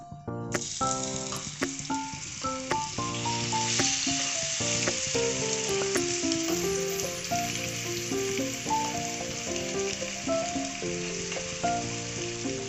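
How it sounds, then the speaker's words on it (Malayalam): Masala-coated shrimp fry in coconut oil in a pan with a continuous bright sizzle, heard under a melodic instrumental music track that plays throughout. "മസാല തേച്ച് അഞ്ച് മിനിറ്റ് മാറ്റി വെച്ച് ചെമ്മീൻ നമുക്ക് ഇതിലേക്ക് ഇട്ട് പൊരിച്ചെടുക്കാം"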